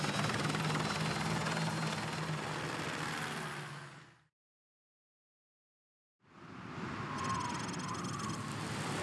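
A military helicopter in the Call of Duty Modern Warfare 2 Remastered campaign, its loud droning rotor wash cutting out to silence for about two seconds before returning at full strength.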